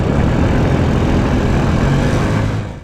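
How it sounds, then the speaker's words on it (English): A motor scooter engine rumbling loud and close as it passes through the town of Spring Hill, a steady droning roar that fades at the end. "The magical mystery scooter, a welcome part of the sounds of Spring Hill."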